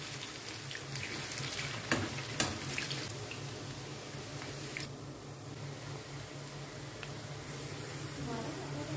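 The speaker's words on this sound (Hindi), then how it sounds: "देखिए जी प्याज हमारा अच्छा सा फ्राई होना शुरू हो गया।" Onions frying over high heat in oil as the masala for chicken biryani, a steady crackling sizzle throughout with a few sharp clinks and pops near the start.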